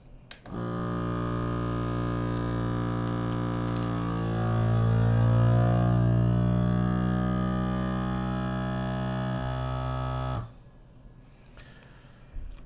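A steady motorized hum with a rising, wavering pitch runs for about ten seconds, then cuts off abruptly, like a vacuum sealer pulling air and sealing a bag.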